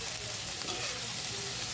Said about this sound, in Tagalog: Gigisahin muna natin yan hanggat maluluto siya.